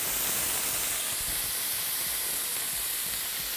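Lemon juice poured around tuna cooking in a hot pan gives off a steady, loud broadband hiss of steam and sizzle that stays continuous throughout, with no talking.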